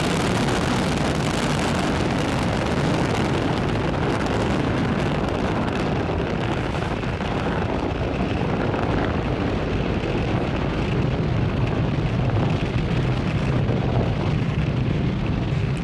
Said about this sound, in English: Falcon 9 has successfully lifted off from Pad 40 at Cape Canaveral Space Force Station